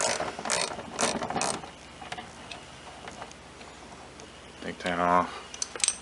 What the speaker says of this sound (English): I'm going to take this nut off here, and that nut is a standard 3/8.